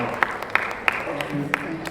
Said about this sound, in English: please give a round of applause and thank them for all that they've learned in the last half an hour